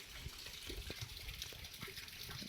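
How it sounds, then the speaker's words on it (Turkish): Water gushes steadily through a channel near a village waterfall, a continuous close rushing and splashing with small gurgles, no voices. "Su buradan geliyor."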